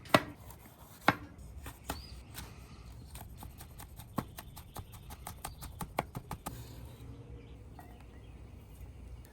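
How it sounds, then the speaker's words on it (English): A jalapeno being finely diced with a knife on a cutting board: a run of crisp, evenly spaced chops, close and clear, that stops near the end, with no voices. "So we have a jalapeno, and I'm going to use the whole thing, finely diced."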